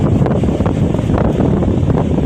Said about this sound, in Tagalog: Yan nga ni kakusog ang hangin.